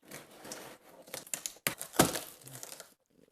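LG UQ75 43-inch 4K TV box packaging being opened from the bottom: close, quiet cardboard and plastic crinkling with sharp tearing bursts and scrapes, then a brief silence at the end.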